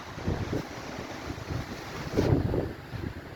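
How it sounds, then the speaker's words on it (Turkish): Gusting wind buffets a microphone fitted with a wind muffler in low rumbling surges, rising and falling with a stronger blast near the end, with no voices. "rüzgar o kadar şiddetli ki gene de arkadan ben uğultu aldım"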